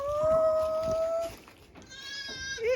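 Goats bleat loudly on a farm on a cold night, one long wavering call followed by a second, higher bleat, close by with no talk over them.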